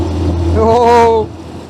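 A vintage 1925 Austin Seven car drives in winter, its low, steady engine drone swelling briefly with a rising tonal whine midway through a short, fairly loud stretch.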